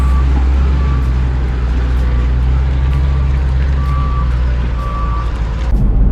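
Large RV driven in reverse gives off loud, steady low engine rumble, with faint repeated reversing beeps sounding at regular intervals over it.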